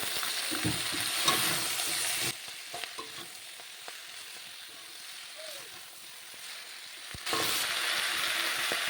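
Malabar spinach, pumpkin and eggplant being stirred in a hot pan, a steady frying sizzle with scraping stirs, louder at the start and end and quieter through the middle.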